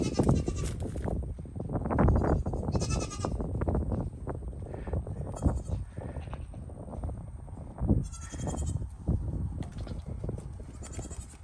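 Several goats bleat repeatedly at close range, their calls overlapping amid shuffling and rustling movement.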